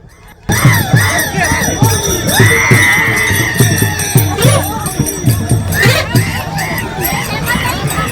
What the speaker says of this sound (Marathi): वाटेमध्ये अनेकांनी जल्लोष केला